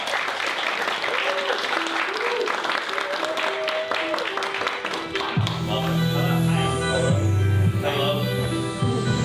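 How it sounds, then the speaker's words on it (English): A canned applause effect fired from a soundboard button at a live improvised comedy podcast show, a dense burst of clapping and crowd cheer that runs the whole stretch, with people talking over it and tones sounding underneath. "we're gonna go ahead and hit that applause button for them."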